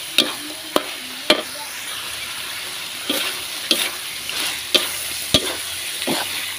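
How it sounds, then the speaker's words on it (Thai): Eggplant and kaffir lime leaves stir-fried in a wok for a spicy frog stir-fry, a constant sizzle broken by repeated sharp clacks of the spatula against the metal, close-up with no voices. "ปรุงรสเสร็จแล้วเราก็มาใส่มะเขือใส่ใบมะกรูดผัดลงไปนะคะ"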